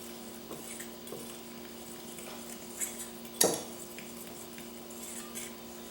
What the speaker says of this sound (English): Pinch of salt, my dry yeast, and I mix this first.